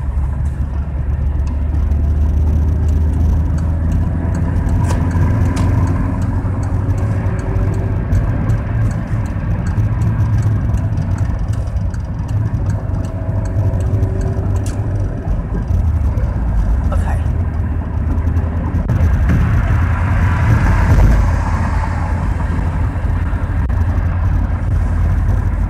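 A car cruising along US 30 West on a Saturday afternoon, a steady low road rumble and engine drone throughout, with someone talking over it.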